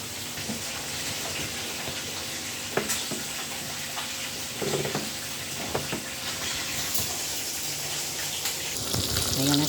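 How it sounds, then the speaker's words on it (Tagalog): Salted milkfish (daing na bangus) deep frying in very hot oil gives a dense, continuous sizzle and crackle with occasional sharper pops and stirring noises, while a person talks in the background. "Deep fry natin yan."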